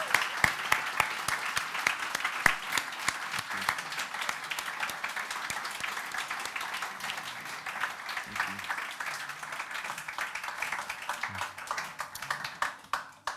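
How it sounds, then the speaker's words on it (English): A church audience gives a sustained round of steady clapping that continues for several seconds, with a few louder individual claps as it tapers near the end. "So can we give Warner a big round of applause?"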